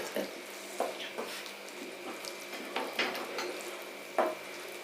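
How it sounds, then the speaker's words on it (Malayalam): Hot water is poured into egg masala in a pan on a high flame and stirred. A soft hiss and sizzle runs under repeated scraping and knocking stir strokes. "ചൂടുവെള്ളം ചൂടുവെള്ളം ഒഴിച്ച് ഇളക്കി കൊടുക്കണം"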